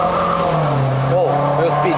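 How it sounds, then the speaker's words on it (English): Turbocharged Proton Inspira 2.0 CVT with an Evo 7 muffler, a steady loud exhaust drone heard from inside the car while people talk over it. "Actually, the exhaust sound quite good also. Yeah, from Evo 7 muffler."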